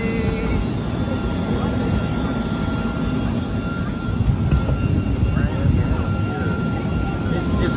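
An airplane sits just after landing at Banjul airport in Gambia, its engines producing a loud, steady broadband roar with wind rumble at the open door, a continuous wash of noise.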